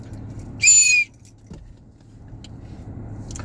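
A single shrill whistle blast, short and loud, rings out over a low rumble of background noise, then fades back to the hum.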